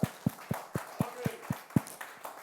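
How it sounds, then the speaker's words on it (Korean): A church congregation at Easter Sunday worship in Ansan claps in unison, giving about eight evenly spaced, solid claps at roughly four per second that then trail off, with no talking. "부활하신 주님 앞에 영광의 박수를 돌립니다."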